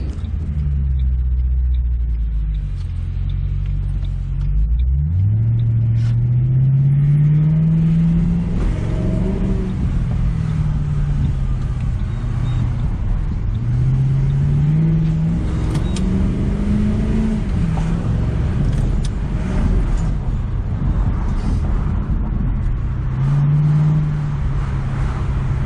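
A 2006 Ford Mustang with a modified manual transmission accelerates hard through repeated gear pulls, engine pitch climbing, dropping at each shift and climbing again, loud and close from inside the cabin.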